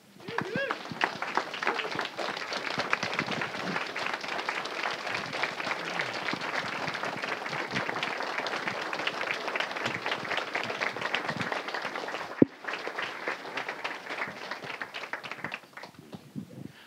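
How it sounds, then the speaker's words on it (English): A standing audience applauds two invited guests at a community Q&A event on an HIV cure, a dense steady wash of clapping that continues for about twelve seconds, then thins and carries on more softly; voices are mixed into the crowd. "I would love for you to please stand to your feet and applaud Timothy Ray Brown and Dr. Gero Hütter."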